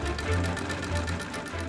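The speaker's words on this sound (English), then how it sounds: "the sewing machine" A sewing machine runs with a steady, quick mechanical whir and faint regular ticking, moderately quiet and heard alone without talk.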